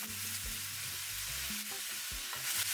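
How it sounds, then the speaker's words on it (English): Pork, potatoes, onions and peppers frying in a pan while being stirred, a close, steady sizzle with scraping and clinking of the utensil against the pan. "Bring all these together, just stir everything."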